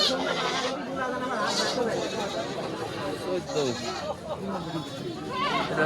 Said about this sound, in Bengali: এখানে দুইটা জোড়া ছাগল দেখেন, দুইটাই মেয়ে ছাগল